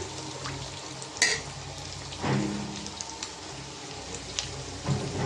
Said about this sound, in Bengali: মশলাটা কষানির সাথে আলু দিয়ে দিলাম